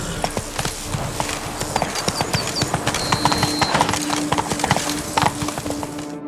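Roach, a horse in the video game The Witcher 3, clip-clops steadily at a walk, hooves striking in a close, regular rhythm over game music and ambient sound, with a brief whinny-like tone partway through.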